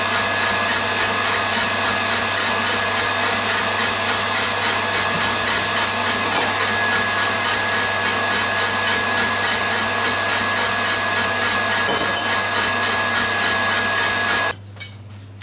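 An electric mixer whirs steadily at high speed while whipping egg whites, a continuous loud buzzing drone that cuts off abruptly near the end.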